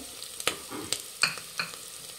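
Onions about three-quarters fried in a pan for plain kushka, sizzling softly while a spatula scrapes and taps against the pan in several distinct strokes.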